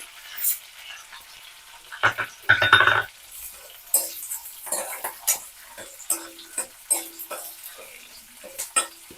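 Chana dal, urad dal, mustard seeds and cumin sizzle and crackle in hot oil for a tempering, with stirring clinks and scattered pops, while someone talks over the cooking.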